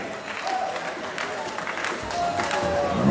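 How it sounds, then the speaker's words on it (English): At a pow wow at Fort Randall Casino, a crowd claps after a young women's fancy shawl dance, with steady applause and a voice over it that swells toward the end. "give them all a round of applause."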